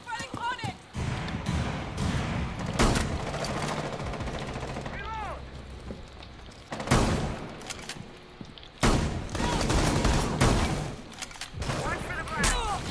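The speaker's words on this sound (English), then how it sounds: "Stop shooting." Gunfire in the tactical shooter Rainbow Six Siege, with loud bursts and bangs recurring irregularly, heard under a player talking over voice chat and occasional in-game effects.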